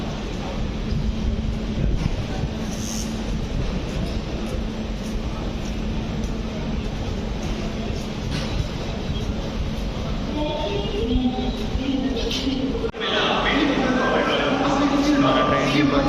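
Busy ambience on platform number 1 at Visakhapatnam railway station: a steady, loud rumble and hum of the station run right through, with a brief dip near the end. Voices and public-address-style sounds sit in the mix.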